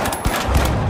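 Rapid automatic gunfire in the video game The Finals, a dense, loud burst of shots packed into a single second with no pause.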